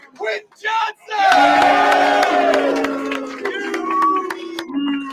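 A stadium crowd at a Chargers v. Chiefs NFL game roars loudly and continuously, a deep sustained cheer whose drawn-out tone resembles booing, with whoops rising above it after a brief lull of voices at the start.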